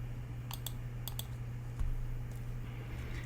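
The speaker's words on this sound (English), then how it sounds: "If I click on PubChem" Sharp clicks on a computer, a few spaced single and double clicks standing out over a steady low electrical hum in a quiet room.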